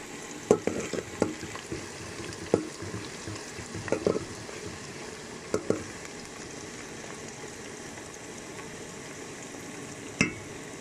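Onions frying in a pan until brown, with a steady sizzle and a series of scraping, clinking stirs that come at irregular intervals, close and fairly quiet, with no talking.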